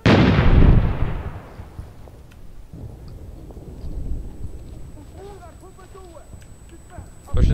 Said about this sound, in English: The grenade's in the hole!